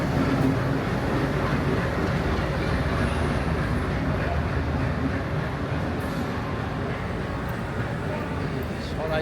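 The 12345 Saraighat Express pulls into platform 15 at Howrah station, a steady loud rolling rumble of wheels and carriages filling the whole stretch amid busy station noise.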